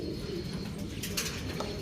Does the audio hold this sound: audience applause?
no